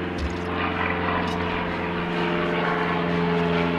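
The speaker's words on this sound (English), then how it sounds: "Planes fly right over my campsite today." An aircraft flies over a wild campsite, a steady, continuous engine drone that holds evenly throughout with no voices.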